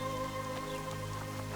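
Steady rain falls in the fantasy game The Witcher 2: Assassins of Kings, an even wash of patter laid over constant game music and ambience, with no voices.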